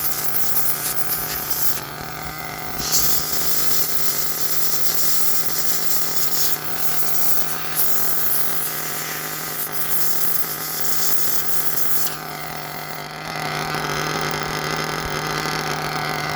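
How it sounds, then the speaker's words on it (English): Nitro RC engine idling during break-in, a high-pitched steady buzzing whine that holds a constant drone, dips briefly near the end and returns, loud and close with no talk. "May have to even drop the idle down a touch to get it down where I want it."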